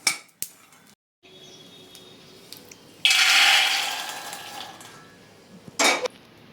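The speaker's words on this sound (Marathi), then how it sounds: "शेंगदाणे भाजून झालेत, हे कढई थोडी स्वच्छ करून घेऊया।" A metal kadhai is scraped and wiped clean after roasting peanuts, with sharp clinks near the start and at the end and a steady, loud scraping rasp in the middle.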